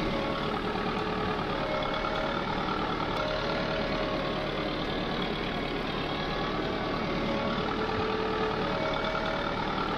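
A Sonalika 60Di tractor engine in Farming Simulator 22 drones steadily as the tractor hauls a 70-quintal load uphill, its mid-pitched labouring hum continuous and unbroken, heard alone without talk.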